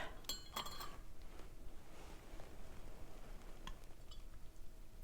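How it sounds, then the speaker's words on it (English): Spoon stirring tea in a cup, heard as faint, close clinks of metal against the cup, clustered at the start with a few scattered taps afterward over a quiet background. "Give it just a little stir."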